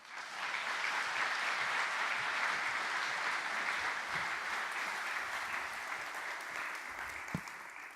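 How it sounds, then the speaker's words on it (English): An audience at an evening talk on cryptocurrency and DNA data applauds to welcome speaker Dr. Caitlin Curtis: steady, full clapping from a roomful of people lasting several seconds and tapering slightly at the end, with little talk. "could you please put your hands together"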